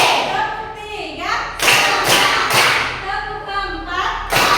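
A school class claps in rhythm, bursts of sharp claps spaced about a second apart, with a voice calling out counts over them in a lively classroom.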